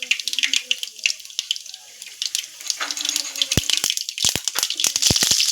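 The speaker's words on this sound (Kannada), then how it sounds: "ಸಾಸಿವೆ ಹಾಕ್ಕೊಳ್ತಿದ್ದೀವಿ" Mustard seeds splutter in hot oil while spices are fried for a Kannada-style sambar, faint sizzling building into sharp, irregular pops and crackles close by.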